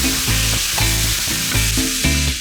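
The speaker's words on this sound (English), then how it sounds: "In a large skillet with just a little bit of olive oil in it, I'm going to brown my ground beef." Ground beef browns in a little olive oil in a large skillet, giving a steady, close sizzle and hiss throughout with no talking, while a rhythmic tonal pattern runs underneath.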